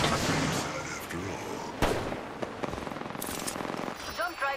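Gunfire in the Apex Legends battle royale game, rapid bursts of shots and sharp cracks mixed with game sounds, loud at first and then settling into quicker, lighter pops.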